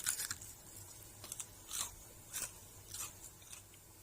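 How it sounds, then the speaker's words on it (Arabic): Crispy fried KFC-style cauliflower, coated without egg or milk, gives a series of close, sharp crunches from bites and chewing, spaced irregularly in a quiet room with no talking. "زي ما شايفين القرنبيط يا جماعه طالع زي الكنتاكي، مقرمش جدا"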